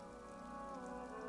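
Rain falling in the video game Disco Elysium, a steady, quiet, even wash of rainfall with no distinct drops standing out and no voices, lasting only a moment.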